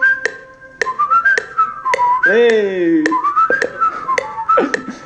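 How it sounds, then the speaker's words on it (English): A group in a dance music masterclass whistles together in rising and falling melodic phrases, accompanied by sharp metronome-like clicks, with a brief shout and short spoken bits mixed in. "Let's try to whistle."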